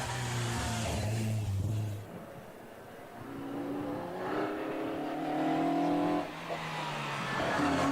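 A Mazda MX-5 launches hard off the start line at Wiscombe Park hillclimb, its engine revving loudly and rising through the gears, close and continuous with no talk.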